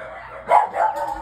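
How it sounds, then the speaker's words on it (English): Puppies near their returning mother give a couple of short, close yips and barks in quick succession, fairly loud against a quiet room. "Let me go see what the dogs are barking at"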